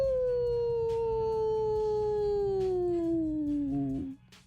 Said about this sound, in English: Coyotes howl?